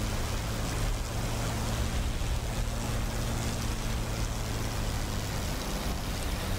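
Steady droning piston engine of a Spitfire IX in the DCS flight simulator during a propeller control check, a continuous loud low roar with a faint shift in pitch partway through and no speech.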